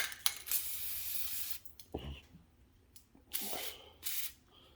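Short bursts of aerosol spray hiss close by as Fluid Film is applied to a battery bolt on a 2013 Dodge Grand Caravan, a few separate sprays with quiet gaps and light handling noises between.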